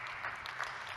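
An audience at a medical conference opening session claps briefly in a thin, steady patter, somewhat distant in a large hall.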